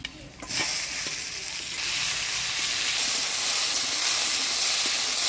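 Boiled taro stolons and seeds drop into a hot pan of oil with garlic and green chillies in a Bengali village kitchen, setting off a sudden loud sizzle that settles into a steady, close frying hiss.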